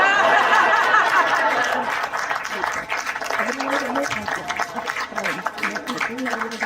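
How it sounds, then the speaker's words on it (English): A crowd claps for Mr. Drago at a history night event, with the applause full at first and then thinning as chatter and light laughter rise beneath it. "Let's keep that round of applause going for Mr. Drago."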